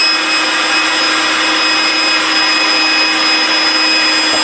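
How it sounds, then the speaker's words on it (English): A small blower fan mounted on the end of a homemade waste oil burner built from scrap parts runs at a steady, loud, constant airy whir with a faint tonal hum, with no talk. "My little blower here on the end, get good airflow out of it."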